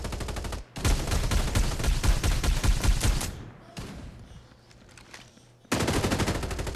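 Automatic fire from the porcupine deployable turret in Farlight 84 chatters in a long, dense burst, stops briefly, then resumes with another loud close burst.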